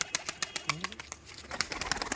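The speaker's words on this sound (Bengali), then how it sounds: "গিরিবাজ পায়রা আছে সেলের জন্য" Giribaz pigeons coo softly in a low, throaty tone among scattered clicks and light rustling, as if in a busy loft close by.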